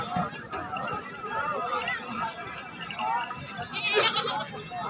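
Goats bleat at a busy livestock market selling does with kids, with crowd chatter and voices running through the scene and a sharper bleat rising near the end.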